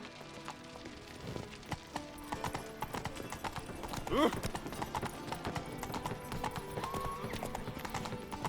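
Hooves clip-clop in a steady rhythm from a horse in The Witcher 3, while a short whinny cuts in midway. A voice speaks briefly over the continuous game ambience.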